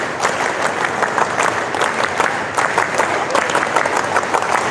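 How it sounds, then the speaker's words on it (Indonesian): An audience claps a rhythmic Scout-style pattern at a gathering honouring a champion Proliga 2023 volleyball team. The claps are steady, evenly spaced and close, with a dense crowd texture throughout. "Tepuk pramuka dua kali."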